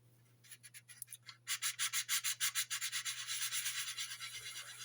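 Fine-grit sandpaper rubs across an old-tool Airfix B-17 Flying Fortress plastic model kit in close, steady back-and-forth strokes, over a constant low hum.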